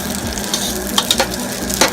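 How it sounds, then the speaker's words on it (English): Butter melts and sizzles in a pan while being stirred, a steady soft sizzle close by with a few sharper scraping clicks from the utensil, no talking. "Get that butter to melt so it'll coat the bottom and everything can cook kind of evenly."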